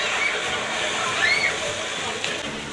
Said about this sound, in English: I love the fountains going over the top of you as you go by